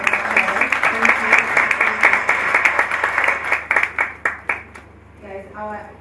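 Audience applause at the NSE 2019 X-Kathon, a mix of many hands clapping with a voice speaking over it, the claps thinning into a few distinct, rhythmic slaps before fading near the end as talk continues.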